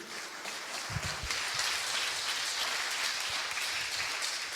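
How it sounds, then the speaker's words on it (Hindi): A church audience claps for the Lord in a steady, even wash of applause that stays moderately loud and unbroken throughout, with no voices over it. "जोरदार तालियां प्रभु के लिए"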